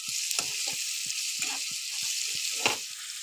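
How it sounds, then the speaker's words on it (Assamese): Onions with salt frying in a pan make a bright, steady sizzle while a spoon stirs them, giving a series of regular scraping knocks at roughly half-second intervals. "অলপ লৰাই দিছোঁ, একেলগে মিক্স কৰি দিছোঁ।"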